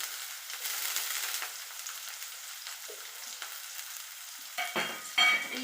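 Ground ridge gourd paste with roasted gram stirred and fried in a pan, a steady soft sizzle with scraping stir strokes and a few louder clatters near the end, no talking.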